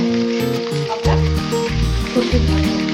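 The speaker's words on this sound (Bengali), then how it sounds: "এখানে পাবদা মাছ ভাজা চলছে" Pabda fish frying in a pan gives a loud, steady sizzle that runs unbroken through the clip, with layered tonal sounds and a low rhythmic pulse beneath it.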